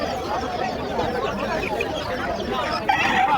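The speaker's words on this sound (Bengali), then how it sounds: "এই যে হাঁস মুরগি সব" Chickens and ducks at a busy rural market in Bandar, Narayanganj, cluck and squawk continuously amid crowd chatter, the birds fairly close and mixed under the general bustle of voices.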